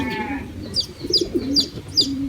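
Young racing pigeons cooing close by in a few repeated throaty, rolling calls, along with light fluttering and shuffling, with no talking.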